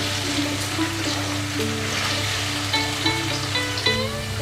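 Potato pieces and fried peanuts sizzle in a pan for sabudana khichdi, a steady crackling fry that carries on without pause beneath tonal background music.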